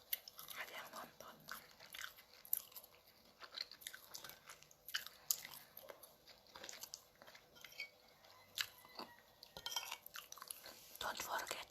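Close, quiet chewing and crunchy biting of Polish and Asian home-cooked food at a mukbang, with wet mouth sounds and soft breaths repeating irregularly, and faint whispery noises between bites.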